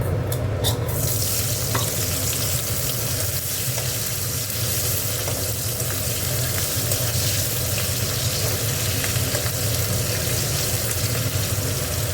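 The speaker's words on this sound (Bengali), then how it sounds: "পেঁয়াজটা ভাজা হয়ে গেছে" Onions fry in oil in a pan for a spicy tangra fish curry, giving a steady, dense sizzle with occasional stirring scrapes, close and even throughout with no talking.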